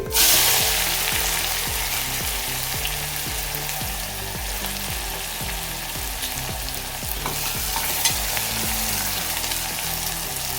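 Chopped onion, fresh curry leaves and dry red chillies fry in a hot kadai, giving a steady loud sizzle with a rhythmic pulse underneath, continuous and close with no talking.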